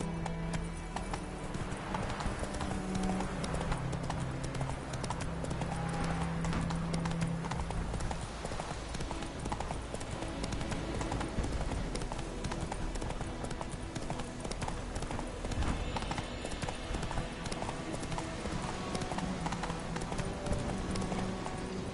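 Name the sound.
horse Roach galloping, hoofbeats in video game The Witcher 3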